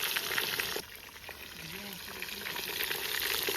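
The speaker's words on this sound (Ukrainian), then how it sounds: "А зараз покажу, як ми м'ясо запечатуємо" Small batches of meat searing in a kazan, a close, steady frying sizzle with a brief drop in level partway through and light stirring sounds.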